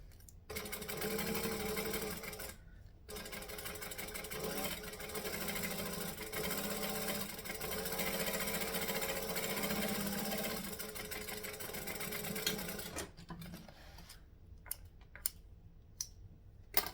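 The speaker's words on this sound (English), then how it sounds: "I just sewed that at like 1/8 of an inch from the edge." A sewing machine stitches bag fabric about an eighth of an inch from the edge in a steady, continuous run lasting most of the stretch, then stops, leaving a few small clicks and taps near the end.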